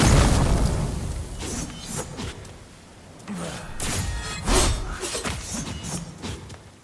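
Bombs burst in the action game No Rest for the Wicked, a heavy boom up front followed by a scatter of sharper crackling bursts and debris hits over several seconds.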